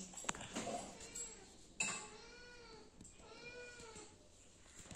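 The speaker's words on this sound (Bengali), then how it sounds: "এই দেখো আমাদের বিড়াল।" A cat meows several times indoors, giving drawn-out, wavering cries with short gaps between them. The calls are close and moderately loud, with faint clatter in the background.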